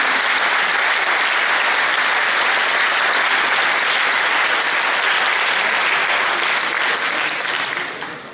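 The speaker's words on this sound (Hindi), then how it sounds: "उनके लिए आपकी तालियां, आपकी कर्तव्य ध्वनि बजे" A large audience applauds loudly and continuously, a dense wash of clapping that holds steady before beginning to fade at the very end.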